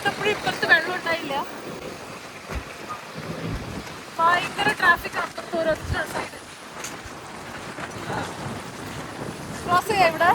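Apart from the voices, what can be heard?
strong wind and rain in Dubai flood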